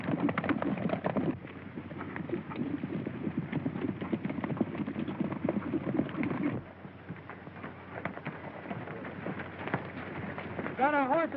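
Horses in a Western film scene clip-clopping in a steady, rapid hoofbeat rhythm at moderate distance, with indistinct voices over the trotting.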